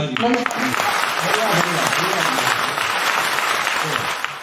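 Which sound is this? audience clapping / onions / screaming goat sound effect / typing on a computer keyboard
audience clapping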